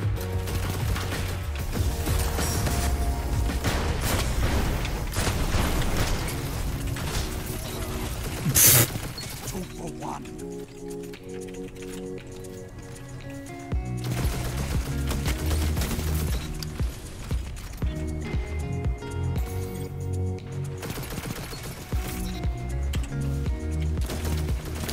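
Seventh Seraph Carbine auto rifle fire in a video game comes in long rapid bursts separated by brief pauses, loud and close, with a player talking over parts of it.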